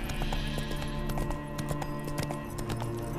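Horse Roach in The Witcher 3 spooked by a ghost, with steady hoof clip-clops and a faint whinny over continuous game ambience and music.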